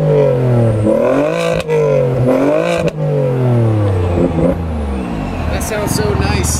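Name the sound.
Audi wagon engine revving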